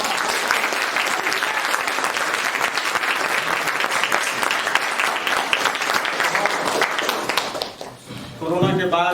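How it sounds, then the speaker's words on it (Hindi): A theatre audience applauds at the end of a stage performance with sustained, dense clapping that fills the room and then thins out, followed by a voice speaking at the very end. "समाप्ति जोर से ताली से स्वागत करें।"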